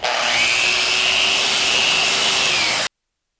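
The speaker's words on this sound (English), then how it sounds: "we'll carry on sanding." Steady, loud abrasive rasp of wood being power-sanded for a puppy gate, a continuous broadband scrubbing that runs close-up and unbroken for nearly three seconds, then stops abruptly.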